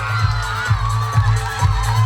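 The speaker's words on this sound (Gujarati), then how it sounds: "એમને પણ જોરદાર તાળીઓથી વધાવી લઈએ." A crowd at a village school programme cheers and claps, with loud, rhythmic bursts of applause and shouting close by, mixed with children's voices.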